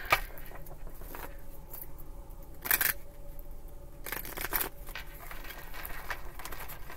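Quiet papery riffles and soft slaps of playing cards being shuffled by hand, in a few short bursts, close up.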